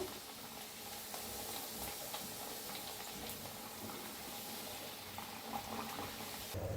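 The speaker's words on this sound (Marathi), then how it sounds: "फिरवून घेऊन दोन्ही साईडने छान असं तळून घेते" Pumpkin slices fry in hot oil, a steady fine sizzle and crackle hissing continuously at low level with no talk.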